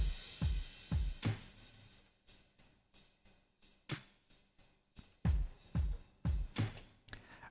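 A vintage ivory acoustic drum kit plays a slow, laid-back lo-fi hip-hop groove, with punchy kick and snare hits falling in a steady, loping rhythm at a soft level.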